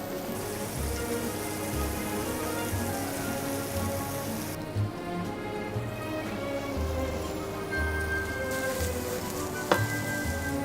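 Oil crackles and sizzles steadily in a hot pan as oyster mushrooms fry, a dense continuous spatter with a few sharper pops near the end.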